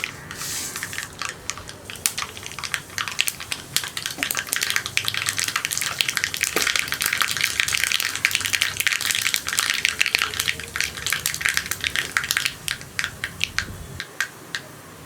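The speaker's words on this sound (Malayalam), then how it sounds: "നമുക്ക് ഇതിലേക്ക് ഒരു 1/2 ടീസ്പൂൺ കടുക് ചേർക്കാം." Half a teaspoon of mustard seeds crackles in hot coconut oil, a dense, rapid run of sharp popping clicks over a steady sizzle, fading off near the end.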